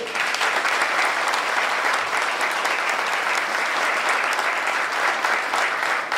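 Audience applause at the close of a history lecture about Luperón, given by historian Luis Bencosme; a full, sustained roar of clapping from a seated crowd, steady and loud throughout.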